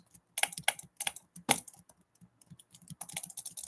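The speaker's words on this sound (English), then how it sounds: "Man, just keep typing while you die over here" Rapid clicking keystrokes on a computer keyboard come in uneven bursts and pauses during a live bloxd.io game session, close and fairly crisp with no talking.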